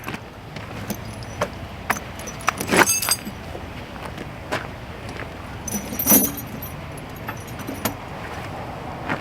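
Steel tire chains handled on a semi truck tractor tire, giving bright metallic jangles and clinks in scattered bursts, with a couple of louder rattles, close up, over faint outdoor background noise and no talking.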